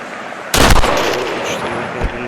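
In the mobile sniper game Lonewolf, a sniper rifle fires one sharp, loud shot with a decaying tail, followed by a fainter second report about a second and a half later.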